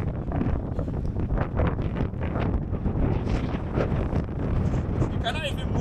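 Strong wind buffets the microphone at Cape Point on the Cape of Good Hope, a loud, gusty, broadband roar that runs throughout, with people talking under it.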